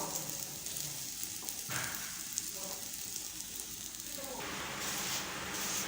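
Ragi, moong dal and poha dosa batter cooking on a pan over a medium flame, giving a steady soft sizzle that runs throughout with no voices.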